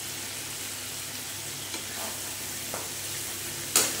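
Spices for mango chicken being sautéed in a pan, with a steady low sizzle, a few soft scrapes and stirring taps, and a sharper clank near the end; no talking.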